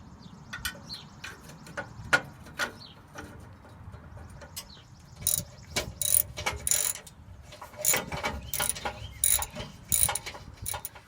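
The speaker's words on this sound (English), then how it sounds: "both of those are easily accessible using a ratchet with an extension on it" A ratchet fitted with two extensions clicks repeatedly as it loosens exhaust bolts on a Jeep Wrangler TJ, coming in irregular bursts of quick metallic ticks, close and moderately loud with pauses between them.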